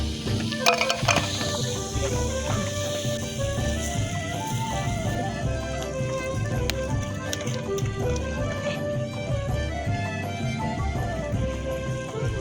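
Flour-coated fish and seafood frying in oil outdoors on a beach, giving a steady loud sizzle, with scattered clinks and taps of a utensil against the pan.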